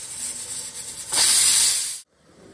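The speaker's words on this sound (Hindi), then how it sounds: "ये देखिए 1 सीटी आने वाली है इसमें" A pressure cooker with chickpeas for chole bursts into a loud, sharp hissing whistle of escaping steam lasting about a second, rising sharply then cutting off into quiet kitchen background.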